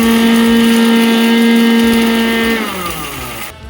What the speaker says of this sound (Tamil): இது நல்லா நைஸாக அரைச்சிக்கோங்க